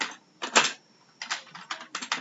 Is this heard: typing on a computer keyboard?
yes